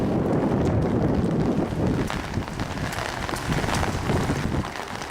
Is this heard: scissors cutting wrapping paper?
no